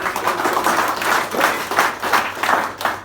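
Audience applause at a Hindi poetry recital (kavi sammelan), a steady, dense wash of clapping from a crowd, fairly loud and even throughout with no talking over it.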